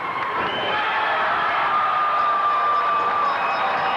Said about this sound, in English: that's an excited crowd